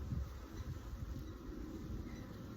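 Package honey bees buzzing at a hive during installation, a faint steady low hum of many wings with no talking.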